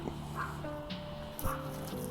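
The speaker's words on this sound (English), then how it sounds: "Oh, it's the guard dog. Can you hear him?" A guard dog whimpers faintly in the distance, thin high whines drawn out over a quiet background with a couple of soft breathy squeaks.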